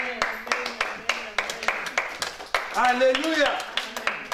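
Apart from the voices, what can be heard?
congregation clapping and acclaiming in church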